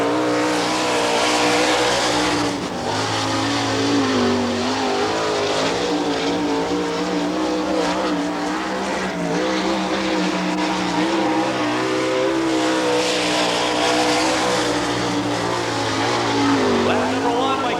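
A sprint-style race car at the All Star Circuit of Champions in Eagle, Nebraska, driven by Keith Kaufman, roars loud and close around the track with a continuous high engine wail that rises and falls through the turns, under an announcer's commentary.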